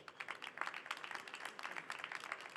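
A small conference audience at a renewable-gas energy event claps after a round-table discussion, the applause faint and scattered with a loose, uneven rhythm.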